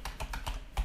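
A few quick keystrokes on a computer keyboard while typing a web address into a browser, about five light, evenly spaced clicks, close and fairly quiet.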